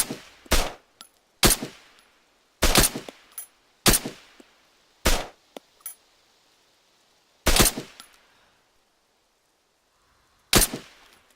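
Gunfire in the Arma 3 military video game: about eight sharp, loud shots or short bursts fired at uneven intervals, with quiet gaps between them and no talk.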